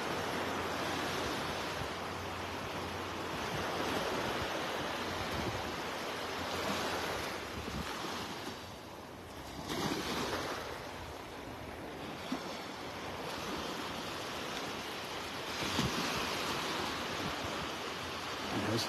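Steady ocean surf washes onto Vanderbilt Beach in the early morning, a continuous broad roar of breaking waves with gentle swells in intensity and some wind buffeting, no voices.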